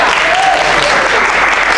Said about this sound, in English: give Jenna a round of applause